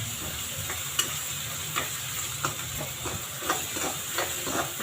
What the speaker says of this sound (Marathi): लगेच आपण उसळ परतून घेऊ